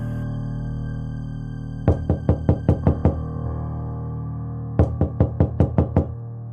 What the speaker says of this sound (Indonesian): Mendengar ketukan pintu dari luar, Ayah langsung membukakan pintu.